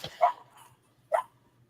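A dog barks in two sharp bursts about a second apart, fairly close and indoors, with near silence between the barks.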